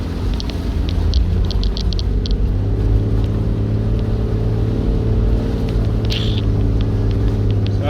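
Off-road vehicle engine held in second gear, low range, descending a very steep slope: a steady, close, droning rumble with layered low harmonics and no revving, running unbroken throughout.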